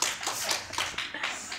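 A handful of people at a screenwriting panel event clap in a sparse, uneven burst of several distinct claps, close and fairly quiet.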